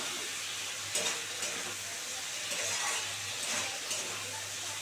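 Spice paste sizzles and fries steadily in hot oil, with occasional louder crackles and scrapes as it is stirred, close and continuous with no talking.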